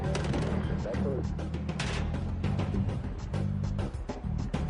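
Dense gunfire from the 1997 North Hollywood shootout, with loud, rapid overlapping shots that continue without pause over a constant rumble.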